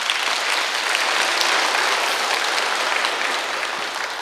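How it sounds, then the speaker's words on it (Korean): A lecture audience applauds at a pastor's talk, with dense, steady clapping from many hands that continues throughout and tapers slightly at the end. "박수, 박수."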